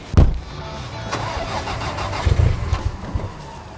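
A replica Ferrari's car engine cranks and catches, then settles into a rough idle with a few revs, loud and close.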